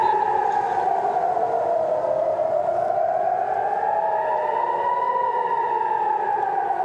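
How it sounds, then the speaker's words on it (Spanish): An air raid siren over Tel Aviv wails continuously, its pitch slowly rising and falling in overlapping tones, loud and unbroken with no voices. "Es el sonido de las alarmas antiaéreas que se escucha sobre Tel Aviv"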